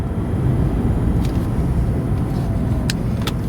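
A 2005 Maserati Quattroporte Executive GT cruises down the road, with a steady low engine and road rumble heard from inside the car, broadband and continuous, with a few faint high clicks and no talking.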